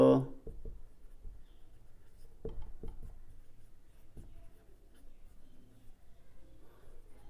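Pen writing out a geometry solution for a circle-area math problem on paper, with soft scratchy strokes and light taps, close and quiet over low room noise.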